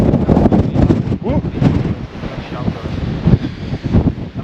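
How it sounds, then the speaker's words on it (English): Strong wind buffets the microphone on a Dartmoor hilltop at Great Mis Tor, a loud continuous roar with gusts throughout; a voice talks briefly partway through. "the wind is blowing up here massively"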